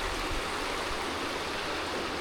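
Mate Creek in West Virginia flows in a steady, full rush of water, broadband and unbroken from start to finish, with no voices.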